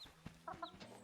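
Chicken clucking in the Planet Zoo game's barnyard, a few short, fairly faint clucks and squawks over a quiet ambient background, with no talk.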